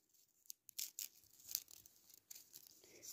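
Cut paper snowflake being unfolded, producing sharp crinkling and crackling bursts of paper in quick irregular clusters, close and quiet.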